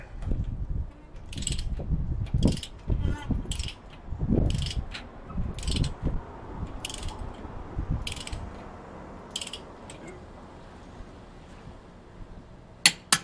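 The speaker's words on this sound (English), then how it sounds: "I'm just going to torque it instantly here" Torque wrench clicking in a repeated series while a bolt is tightened on a 2014 Subaru BRZ during a front rotor and brake pad job, sharp close clicks in bursts with ratcheting rattle and shop clatter, no talking.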